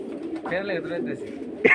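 Pigeons coo nearby, soft throaty calls mixed with someone talking over them, ending with a sharper brief noise.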